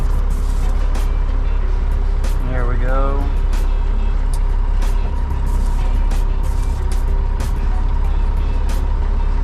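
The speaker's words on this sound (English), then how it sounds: "So I'll put it in gear, take my brakes off," Concrete mixer truck releasing its air brakes and pulling away: a steady heavy diesel rumble with a short rising hiss-like chirp partway through, while someone talks over it.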